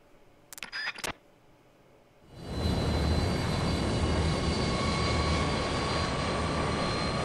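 Aircraft in Metal Gear Solid 3 Snake Eater: a few sharp clicks, then a plane engine swells in and holds as a loud, steady roar.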